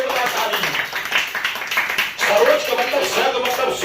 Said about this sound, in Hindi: सरोज के लिए जोरदार ताली।